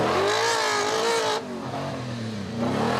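A Lexus V8 in a 4x4 trials truck revs loudly at a competition event, the engine note rising and falling in a short burst with rough, close-up roar.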